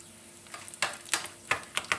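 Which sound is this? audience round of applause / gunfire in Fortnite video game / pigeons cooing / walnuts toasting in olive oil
walnuts toasting in olive oil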